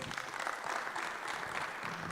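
Steady applause from an audience at a general assembly of the African network of biosphere reserves, a dense, even clatter of many hands clapping throughout without pause.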